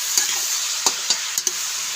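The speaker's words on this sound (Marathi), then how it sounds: "कांदा जास्त भाजू पण द्यायचा नाही आणि जास्त कच्चा पण ठेवायचा नाही." Chopped onion sautéing in a pan with salt for methi egg bhurji sizzles steadily, broken by a few sharp scrapes and taps of a spatula being stirred through.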